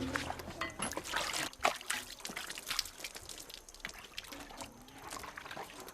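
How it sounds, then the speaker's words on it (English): Clean water splashes and trickles while rinsing a coffee pulping machine at a wet-process coffee site in Uganda, irregular pouring and dripping at close range, fairly faint and alone. "Make sure to rinse the machine thoroughly with clean water before filling it with the ripe cherries."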